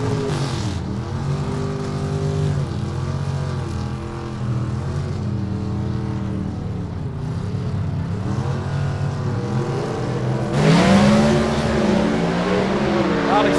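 Gasser drag race cars on a drag strip launching hard, engines roaring with rising revs and then fading into the distance, while an announcer talks over the noise.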